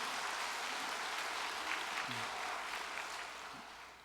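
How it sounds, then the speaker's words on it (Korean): Congregation applause fills a church hall, a steady dense clatter of many hands held throughout and easing slightly toward the end, with a brief voice surfacing in the middle. "참어머님께 감사의 박수를 보내십시다."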